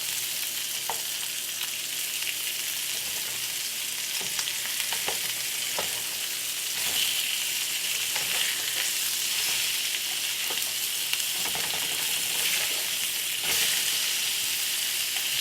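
Cheeseburger patties sizzle and fry steadily in a hot pan, a dense continuous crackle with occasional louder pops and spatula scrapes as they are flipped, close and alone without talk.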